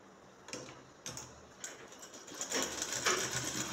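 A sewing machine stitches along the edge of a shirt collar band, quiet close needle ticking that starts in short bursts and then settles into a faster, steadier run.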